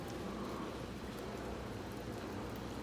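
Rain falls as a faint, steady wash of hiss with no distinct drops or other sounds standing out.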